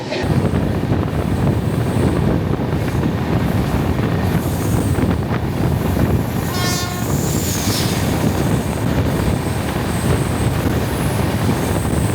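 Kaziranga Express passenger train running on the Kolkata to Guwahati line, a steady loud rumble of wheels and carriages throughout, with a brief horn blast near the middle and faint wheel squeal.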